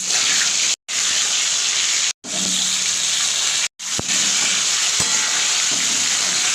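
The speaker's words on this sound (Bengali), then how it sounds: "তো এবার আলুগুলোকে আমি লাল লাল করে পুরো ভেজে নেব" Potatoes frying in hot oil in a wok, a steady loud hissing broadband sizzle that drops out briefly three times, with a few light clinks of a utensil.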